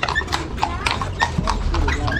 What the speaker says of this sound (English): People also go around in these horse carts here.